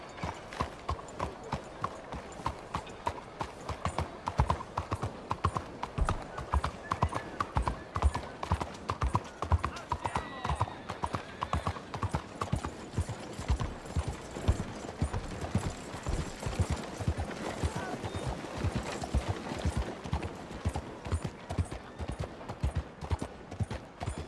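Horse hooves clip-clop steadily throughout a ride in the Red Dead Redemption 2 video game, a continuous rhythmic trot at close range with faint speech and ambient sounds mixed in.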